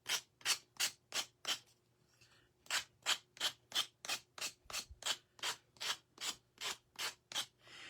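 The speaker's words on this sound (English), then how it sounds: "I'm going to sand on this a minute. Kind of get those edges a little bit rounded off." Hand sanding the edges of a thrift store wooden round, steady rhythmic rasping strokes, about seventeen close back-and-forth passes with a short pause after the first five, with no talk.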